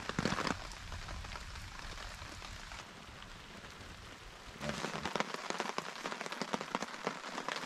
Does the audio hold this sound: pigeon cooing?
no